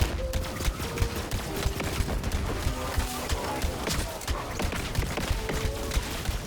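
Legendary weapon in Borderlands 3 spraying random elemental projectiles, a dense rapid stream of loud shots and impact crackles that runs without pause for several seconds, with a faint voice underneath.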